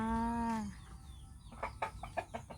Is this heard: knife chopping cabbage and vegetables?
no